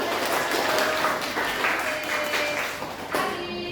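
Clapping from a classroom audience after a student presentation, a steady dense patter of many hands lasting the whole stretch, fairly close and even in loudness.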